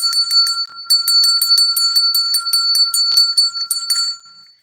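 A bell rings in quick repeated strikes with a bright, steady ringing tone, loud and close, pausing briefly after the first few strikes and then carrying on rapidly until fading near the end.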